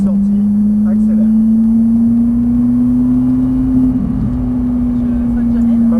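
Car engine rising steadily in pitch as it accelerates out of a corner on a race track, a loud, close, continuous drone heard from inside the car with a voice talking over it.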